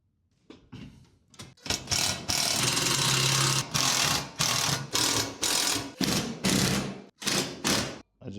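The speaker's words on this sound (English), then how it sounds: "How the heck am I supposed to get a wrench in there?" Rapid mechanical ratcheting and whirring bursts from a wrench driving bolts during assembly of a Haul Master mini utility trailer from Harbor Freight, in a series of sustained runs and short repeated pulses, loud and close.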